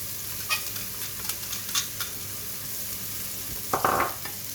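Onions and garlic sweating in a pan give a soft steady sizzle, broken by several brief stirring scrapes and a louder clattering stir near the end, with no talking.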